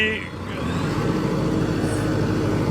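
A Deutz Fahr 80 tractor pulling a 36-disc harrow drones with a steady, close diesel roar as it shifts into second gear, the engine note holding constant throughout with someone talking over it.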